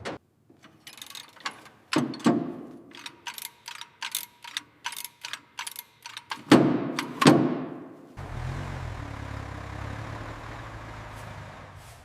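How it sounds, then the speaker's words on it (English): A winch hauls a 1920 Ford Model T upward with a run of close, sharp ratcheting clicks and metallic clanks, then settles into a steady mechanical hum. "The winch is engaged and the Model T is slowly coming up."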